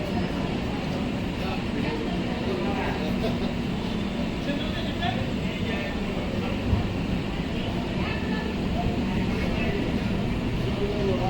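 The Humsafar Express runs on the Sealdah–Jalpaiguri Road route, heard from inside as a steady, loud rumbling roar with faint rhythmic clatter, and a voice speaks over it.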